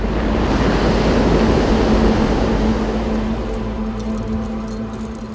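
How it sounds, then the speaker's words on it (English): Loud sea surf rumbling close by as waves recede from a rocky shore, a broad churning roar that gradually eases toward the end, with faint rattling hints near the close. "there's like this real rumble as the sea comes out again."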